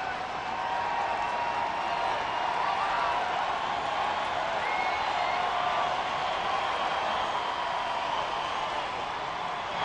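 Steady, broad murmur and clapping from a 35,000-plus baseball crowd at a Chicago White Sox at Detroit Tigers game, sustained at an even level for the whole stretch without distinct peaks.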